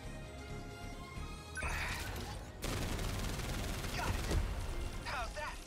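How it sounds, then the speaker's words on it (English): Machine guns firing in a sci-fi mech strategy game: after a tonal musical stretch, a dense, loud barrage of rapid gunfire and crashing impacts bursts in and continues under game music, with sharp hits near the end. "Action machine guns."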